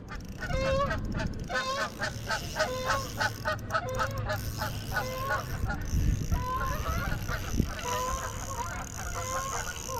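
Geese honk at a park pond, a flock calling repeatedly in rough overlapping bursts, fairly close and loud over steady outdoor background noise, with some faint voices mixed in.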